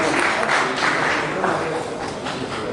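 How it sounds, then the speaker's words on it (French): Audience applause at an African traditional medicine day event, a dense steady clatter of many hands clapping at close range without a break. "Applaudissez s'il vous plaît,"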